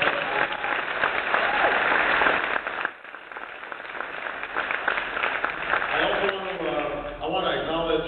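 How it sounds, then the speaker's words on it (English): Town hall audience at a politician's event claps loudly in a dense, steady burst of applause. It fades after a few seconds, and a voice then talks over the quieter room. "Give her a big round of applause."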